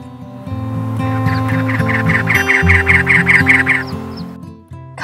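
A chaparral-nesting bird gives a loud, close call made of a rapid run of repeated nasal notes that swells and then stops, with no other sounds.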